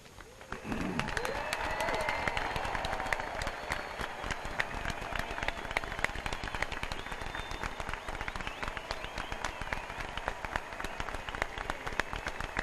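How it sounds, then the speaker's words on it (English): Sustained applause from a large commencement audience honoring graduates at a 2014 spring university ceremony, a dense steady wash of many hands clapping for over ten seconds with faint cheering mixed in. "ask the audience to once again recognize your achievements with their applause"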